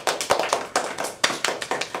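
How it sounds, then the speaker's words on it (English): Scattered hand claps from a small classroom group after a student's persuasive speech, sparse and uneven, about a dozen sharp claps spread over two seconds, close and fairly loud with no talking. "Let's give her a round of applause."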